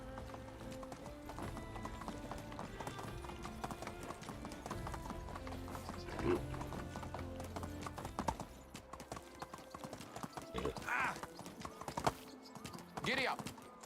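A horse's hooves clip-clop steadily through a medieval village in the game Medieval Dynasty, with occasional whinnies and faint background game sounds.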